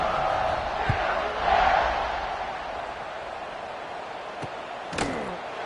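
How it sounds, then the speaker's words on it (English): A college football stadium crowd at a Wake Forest game roars in a broad, sustained wash of noise during a kickoff, swelling briefly near the start before settling into a steady rumble, with a couple of sharp knocks later. "this crowd is feeling themselves after that last drive"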